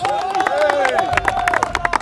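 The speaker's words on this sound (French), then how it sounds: "Applaudissements pour Monsieur Bernard Mendy." Audience applause for a former football player at a French football event, scattered claps building under voices and crowd chatter, with people talking over it.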